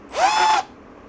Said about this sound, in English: what if we were able to drill a hole in this one and just put an S-hook through it?